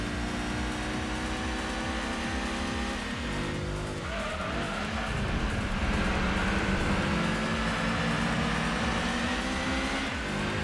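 Subaru race car engine in Gran Turismo 2 roaring steadily and loudly throughout, with tire squeal and skidding noise building in the second half as the car corners hard.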